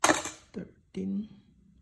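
Loose coins clink as they are handled and dropped during a search through change: a bright metallic jingle, then a softer clack and a short rattle, close and clear, with a faint voice at the end.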